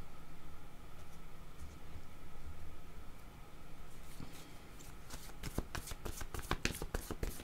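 Tarot cards being shuffled by hand, a soft papery riffle that builds into a rapid run of crisp flicks toward the end, close and alone with no talk.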